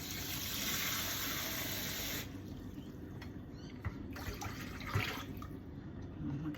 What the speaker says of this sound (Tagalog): O butang na ko siya tubig.